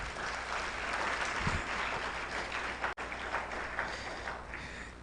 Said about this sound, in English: Ladies and gentlemen, can we have a better clap?